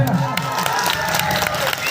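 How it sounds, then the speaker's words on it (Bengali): Crowd noise with cheering and scattered clapping from an audience, lively and fairly close, mixed with shouting voices. "সত্যি নিজেদের জন্য একবার ছোট্ট করে হাততালি হবে না"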